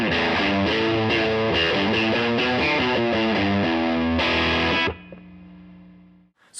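Heavy, distorted electric guitar plays thick chugging chords in a steady rhythm, then cuts off abruptly, leaving a low ringing tail.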